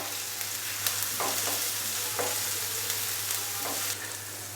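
Ginger-garlic paste being fried in a pan for masala Maggi, a loud continuous sizzle with several scraping stirs of a spoon, close up and without speech.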